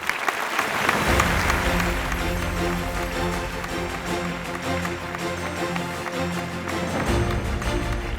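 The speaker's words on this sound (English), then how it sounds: "keep the applause going for Harmanpreet Singh, the dynamic captain of the Indian men's hockey team" A crowd at the Times Now Amazing Indians Awards 2024 applauds the captain of the Indian men's hockey team, with loud, dense, sustained clapping over a low musical bed.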